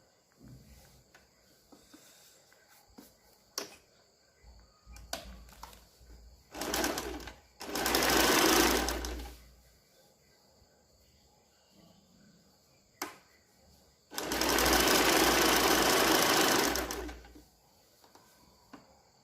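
A sewing machine stitches a blouse neckline in short bursts, a close rapid whirring that starts and stops several times with quiet pauses and small handling clicks between runs.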